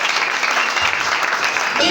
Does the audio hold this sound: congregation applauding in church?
yes